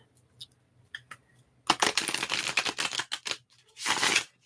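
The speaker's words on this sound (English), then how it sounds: "as I shuffle the cards." Tarot cards are shuffled during a reading, with soft scattered card flicks at first, then a dense riffling burst lasting over a second and a final short shuffle, close and fairly quiet.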